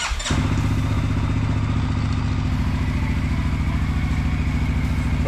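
A 2021 CFMoto Cforce 600 ATV engine fires with a short starter burst, then settles into a loud, steady, close-up idle with a throbbing low rumble that runs to the end.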